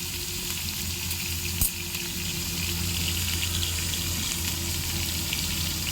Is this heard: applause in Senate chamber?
no